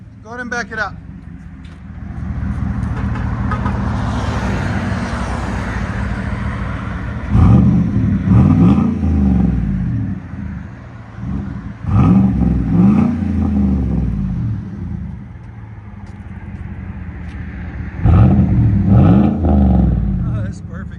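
A 2018 GMC Sierra Denali's 6.2L V8 with a CARVEN R-Series exhaust, resonator delete and 5-inch tip idles steadily with a deep burble, punctuated by three loud, sharp revs spaced several seconds apart, heard up close with a brief voice at the start.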